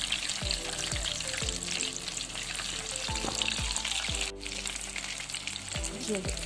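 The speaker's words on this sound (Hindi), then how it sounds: "शैलो फ्राई कर रही हूँ।" Chicken cheese drumsticks shallow frying in hot oil, a bright continuous crackling sizzle, close and fairly loud, with a few low knocks and clinks of handling in the pan, no speech.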